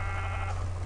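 Sheep bleating in a Minecraft-style block video game, one continuous loud bleat filling the short moment over a steady low game hum, with no talk.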